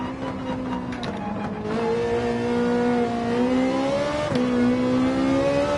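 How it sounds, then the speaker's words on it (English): Mid-engine, flat-plane-crank V8 race car in Gran Turismo 7 at Daytona Road Course, revving high and steady with a smooth, sustained engine tone that dips briefly as it shifts, loud and continuous with no talk. "Beautiful sounding V8 with a flat plane crank on this, making it for a very high revving V8."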